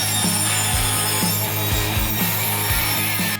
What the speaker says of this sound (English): Now let's cut them to length and secure them to our foam.